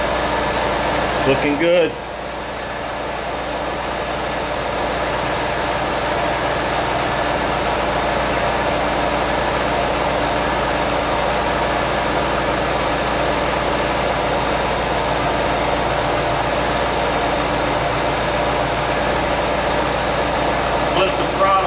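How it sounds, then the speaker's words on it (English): A C4 Corvette's LT1 V8 idles steadily with the air pump whirring on, a continuous close mechanical drone and hiss after a brief bump near the start, with a short spoken remark over it. "That's the air pump kicking on."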